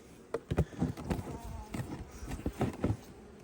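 Bees buzzing around a hive, a steady low hum with individual insects droning closer and fading, fairly quiet throughout.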